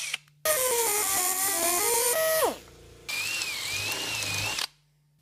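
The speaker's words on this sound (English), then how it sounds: "I'll drill 2 holes in the key collar and then cut a small slot with the die grinder to join them." A drill boring two holes in the bronze collar of prop shackles, then a die grinder cutting a slot to join them: a loud, steady whine that drops in pitch as it bogs, a short pause, then a second sustained grinding run, with no talking.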